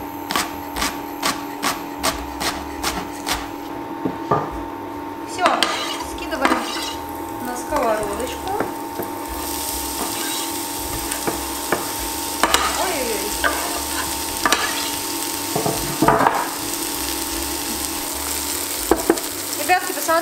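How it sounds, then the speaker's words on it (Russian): Chopped green onion frying in vegetable oil in a pan, a steady close sizzle with frequent clinks and scrapes of a utensil stirring against the pan. "лук зеленый мы с вами чуть-чуть поджарим"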